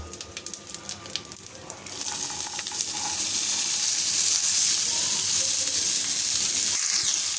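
Chopped vegetables tipped into a frying sago (sabudana) mixture in a pan: a few scrapes, then a loud, steady sizzle that swells after they go in and continues while everything is stirred, with no talking.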